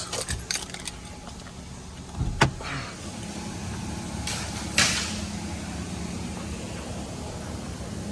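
A brief metallic jingle of car keys for a 1995 Cadillac Deville amid faint vehicle and door handling noises, followed by a steady low background hum.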